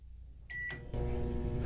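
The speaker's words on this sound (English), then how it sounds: "So, Alexa, cook the microwave for 2 minutes." An Amazon Alexa-controlled microwave oven starts up: a short high beep and a click, then the steady low hum and rumble of the running oven close by.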